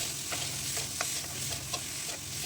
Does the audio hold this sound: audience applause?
no